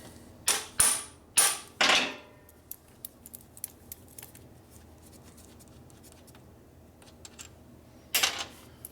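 Old straight slot screws being worked loose on a 1965 Harley-Davidson Sportster XLH, with a few sharp metallic scraping and creaking bursts up close, light tool clicks and taps between them, and a final scrape at the end.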